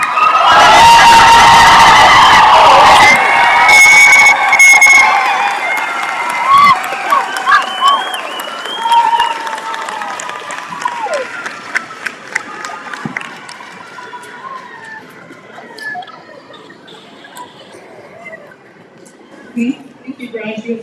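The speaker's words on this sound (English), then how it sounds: "Graduates, please turn and face the audience and receive your applause." A commencement audience at Northwest Indian College applauds and cheers its graduates: a loud burst of clapping with shouts and whistles that gradually thins into scattered claps and cheers over the following seconds.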